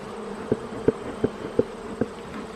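Honeybees hum during a beehive inspection, with five evenly spaced close buzzing swells over a faint background drone.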